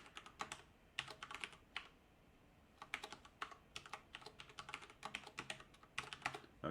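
Fast, irregular bursts of clicky keystrokes on a computer keyboard, close and moderately loud, arriving in clustered runs separated by short pauses, with no talking.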